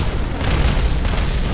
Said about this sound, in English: Oh, things are exploding still.